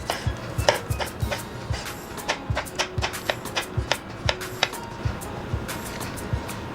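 A knife finely dicing tomato on a cutting board, quick regular chopping taps repeated steadily throughout, close and crisp.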